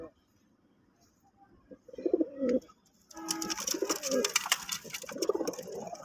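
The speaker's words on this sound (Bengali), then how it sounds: "দেখেন প্রিয় কবুতর প্রেমীরা, অসাধারণ একটা কবুতর" Pigeons cooing in a loft where pigeons are kept, a few soft close coos, then busier cooing and fluttering with a voice speaking over them.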